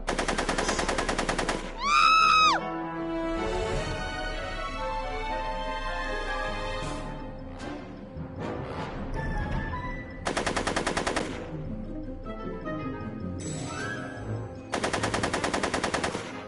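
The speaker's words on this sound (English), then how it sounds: "Are you shooting at me?" Rapid bursts of automatic gunfire in the Back to the Future video game, Episode 2 "Get Tannen," loud and close, several dense volleys separated by gaps with background game sounds between them.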